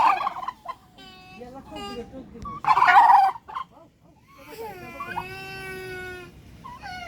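Turkeys gobble close by in several bursts while eating greens, rapid warbling calls with short pauses between, one loud outburst standing out in the middle.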